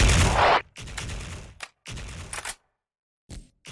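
Sniper rifle gunfire in a video game, three loud sharp shot bursts with short gaps followed by a quieter fourth, alone without talk.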